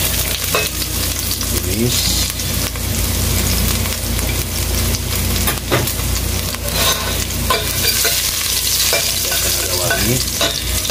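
Ginger and garlic fry in hot oil, a steady loud sizzle with stirring scrapes throughout, while someone briefly speaks over it.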